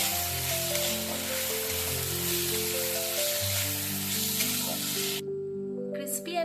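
Soy and tomato sauce mixed into crispy fried corn in a hot pan, a loud steady sizzle with stirring, cutting off abruptly near the end to near quiet.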